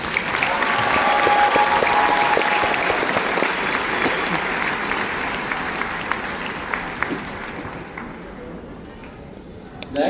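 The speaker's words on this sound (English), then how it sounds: "let's give them one more round of applause" A graduation audience gives a sustained round of applause, with dense, steady clapping from a large crowd that slowly thins out toward the end.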